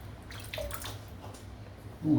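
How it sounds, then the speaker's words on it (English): Water drips and trickles softly onto a shaving brush in a quiet room, a few faint splashes ending in a louder pour. "Just going to drip some water in."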